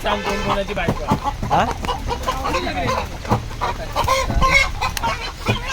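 Several chickens cluck and squawk close by in a busy, overlapping chorus, with people's voices mixed in.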